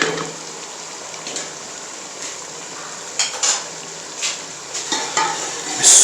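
Chicken achar gosht with fresh coriander being stirred in a pot: soft sizzling under a few scrapes and clinks of a spoon against the metal, near and fairly quiet, with no voices.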